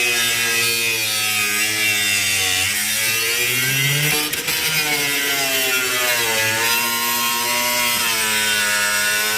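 Power cutting through the sheet-metal floor pan of a 4x4 Chevy S10 Blazer during a V8 swap, a loud, continuous high whine that keeps shifting in pitch as the tool bites and eases.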